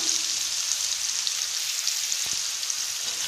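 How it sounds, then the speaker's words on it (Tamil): Finely chopped onion sautés in oil in a kadai, a steady, close sizzle and crackle with no break. "மீடியம் சைஸாக ஒரு பெரிய வெங்காயம் பொடியாக நறுக்கினதை ஆட் பண்ணி நல்லா வதக்கிக்கலாம்"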